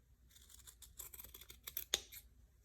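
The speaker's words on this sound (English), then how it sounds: "clip these corners because we are going to flip this over" Scissors snipping the fabric corners of a sewn skirt, a quiet run of small close cuts and rustles ending in one sharper clip, with no talk.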